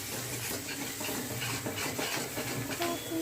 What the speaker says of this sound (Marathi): हे सर्व मसाले जे आहेत ना ते आपण आता यामध्ये घालून घेऊया तेलात आणि चांगले असे मिक्स करा